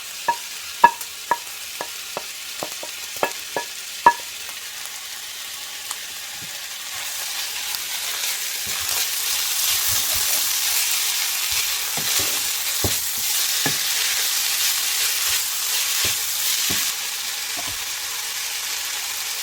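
Tomatoes and garlic for karnıyarık hit a hot pan, a few sharp utensil taps giving way to a loud, steady sizzling hiss that rises and holds, with occasional scrapes and no voices.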